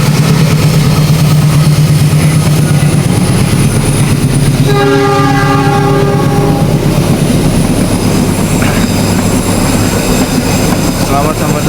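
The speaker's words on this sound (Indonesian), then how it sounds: "kereta api berjalan di atas jembatan Cirahong" A train rumbles loudly and continuously across the double-decker Cirahong bridge in Indonesia, its horn sounding a sustained multi-tone blast midway through the steady rolling noise.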